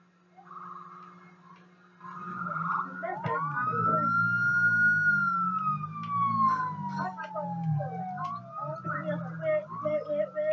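Police siren from an online video game, wailing close and loud with a long rising and falling sweep over a low steady hum, repeating its cycle near the end.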